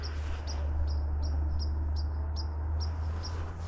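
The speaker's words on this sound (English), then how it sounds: "Hear those little chirpy sounds? All in the pine trees." Small birds in pine trees give a series of faint, high, evenly spaced chirps over a steady low rumble of background noise.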